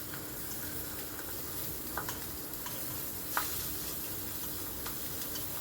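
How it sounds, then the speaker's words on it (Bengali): Pieces of fish and eggplant fry in a pan over a medium-high gas flame, giving a steady close sizzle with a few light clicks and scrapes as they are turned over. "এবার একটু উল্টো পাল্টে দেবো, বেগুন আর মাছটাকে একটু উল্টো পাল্ট করে দেবো।"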